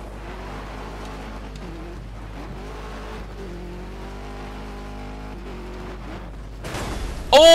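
A rally car engine drones steadily through a Colin McRae Dirt 2 race between houses, then a sudden, loud crashing impact bursts out in the final second.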